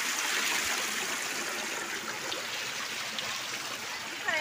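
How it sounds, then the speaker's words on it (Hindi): A small waterfall stream flows on a mountainside, giving a continuous, even rushing hiss of water that holds steady throughout with no talk. "यहाँ पर देख सकते हैं छोटा झरना"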